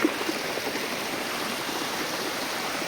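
Stream water flows near a living root bridge, a steady, even rushing wash that stays constant and fairly loud, with no voices over it.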